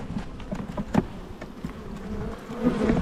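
Honey bees buzz around a hive frame in an Australian apiary, a close, continuous droning hum with small swells and a few sharper passes near the microphone.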